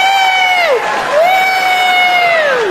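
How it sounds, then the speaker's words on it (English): A comedy club audience cheers loudly, with long, high, rising and falling whoops over a crowd murmur in a short burst. "How many people here by applause are 40 or younger? 40 or younger, applaud."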